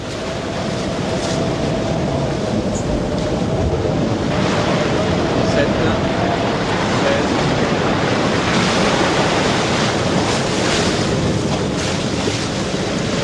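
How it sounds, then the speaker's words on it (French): Storm gusts and heavy waves at sea around a sailing vessel off Cape Horn, a steady loud roar of wind and surf filling the whole stretch without pause, with a faint tonal hum underneath. "Voilà qu'il va falloir négocier un orage avec son cortège de bourrasques et de vagues menaçantes."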